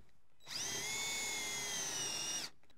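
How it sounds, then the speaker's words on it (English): A power drill whines steadily for about two seconds while drilling into a log, starting and stopping abruptly, a loud high-pitched motor sound close by. "You can use a regular drill."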